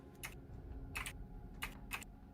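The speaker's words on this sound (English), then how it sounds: "I think I can hear you typing." Typing on a computer keyboard, heard as a few short bursts of clicking keystrokes at a moderate distance over a low background hum, with no talking.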